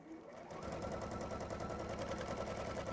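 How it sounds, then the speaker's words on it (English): A sewing machine stitching with a rattling bobbin starts up and runs steadily, a fast, even mechanical chatter close by. "I'm going to have to take that bobbin out because it's rattling"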